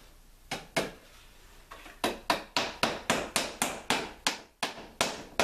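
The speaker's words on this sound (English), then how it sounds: "You feel that when you're nailing it" Nails are hammered into cedar planks on a canoe under restoration: sharp, ringing close blows, two at first, then a rapid even series of about a dozen strikes in steady rhythm.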